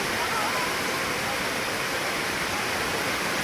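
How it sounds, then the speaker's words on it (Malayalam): Heavy monsoon rain pours down outdoors in Kerala, a dense, even hiss that is loud and unbroken throughout. "ഞങ്ങളിതാ എത്തിയപ്പോൾ നല്ല മഴയാണ് ഗൈസ്"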